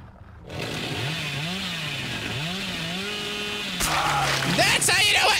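Revving chainsaw of the killer in Dead by Daylight, an engine whine rising and falling in pitch, then louder chaotic noise near the end, with a voice shouting over it.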